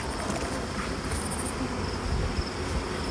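A dense, steady buzz of honeybees at a hive fills the whole stretch, like many bees droning together close by, with no voices.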